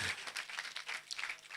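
An audience clapping hands in applause, a dense, steady patter of many claps at a moderate distance, fairly faint and continuous throughout the short stretch.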